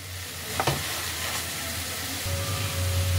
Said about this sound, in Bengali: এখান থেকে ঘি ছাড়তে আরম্ভ করেছে, তার মানে গাজরটা বেশ ভালোভাবে ফ্রাই হয়ে গেছে।